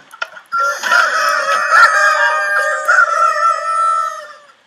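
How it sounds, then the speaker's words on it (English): Loud roosters crowing in Minecraft, long drawn-out overlapping cock-a-doodle calls ringing clearly and close for several seconds after a brief click at the start, with no talk. "Oh, those are loud roosters."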